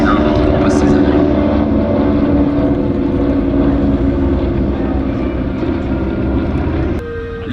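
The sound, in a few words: Douglas DC-3 and Beechcraft 18 piston engines in flight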